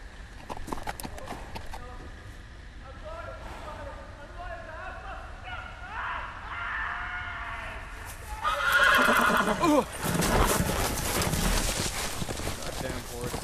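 Horse neighing and hooves from the Telltale Game of Thrones game, a whinny and hoofbeats building into a louder, busier burst of galloping and commotion toward the end, mixed with voices.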